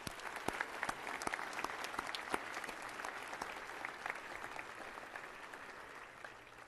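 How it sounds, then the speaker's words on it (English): Audience applause at a high school National Honor Society convocation, a sustained round of many hands clapping with sharp individual claps standing out, gradually easing off toward the end. "I think that's worth another round of applause"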